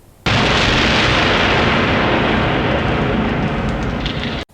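A robot machine blows up in a movie scene, a loud, sustained roaring explosion rumble that starts abruptly and holds steady for several seconds before cutting off.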